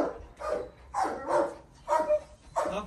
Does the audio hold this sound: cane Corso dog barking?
yes